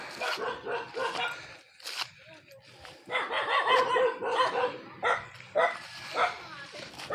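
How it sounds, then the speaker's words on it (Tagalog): A dog barks repeatedly in short yips and bow-wows nearby, the barks overlapping with people talking. "May aso."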